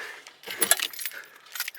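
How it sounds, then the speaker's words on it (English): Car keys jangle close by in a short metallic rattle, with a few bright clinks and shakes over roughly two seconds, no talking. "Here's my keys."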